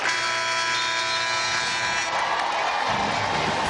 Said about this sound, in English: Great hand from this sold-out CLA crowd